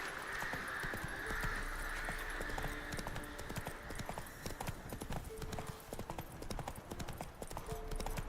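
Roach the horse gallops in The Witcher 3, a steady rapid clip-clop of hooves running continuously over game music and ambient sound, with a faint voice now and then.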